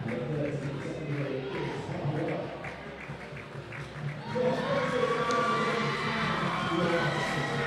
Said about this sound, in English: Big round of applause for the coaching staff there of Richmond from their whole team.